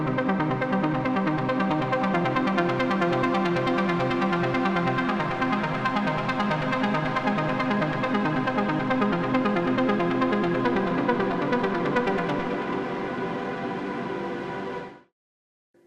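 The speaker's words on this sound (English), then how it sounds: "you're gonna hear why it's a Prophet 5 arpeggiated" A Prophet 5 synthesizer plays an arpeggiated chord pattern with a very long reverb, in a dense pulsing run of rapid notes that keeps going for about fifteen seconds before it cuts off abruptly.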